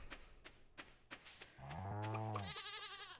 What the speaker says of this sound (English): That sound is a bleat.